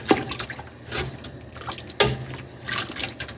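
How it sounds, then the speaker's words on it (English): Water from a tap poured into a bowl while cooking Khmer beef and pork ribs soup, a few close splashing bursts separated by short pauses, alone without talk. "I'm adding more water this time."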